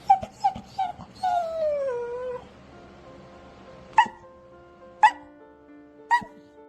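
Scooby, a rescued dog once kept by a dogfighter, gives a string of short whimpers and a drawn-out whine, then three sharp, separate barks spaced about a second apart, close and clear in a quiet room.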